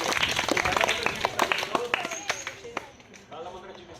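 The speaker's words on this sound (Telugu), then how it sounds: "క్లాప్స్." A school audience claps at a magic show, a quick ragged patter of many hands that stays lively for a few seconds and then thins out.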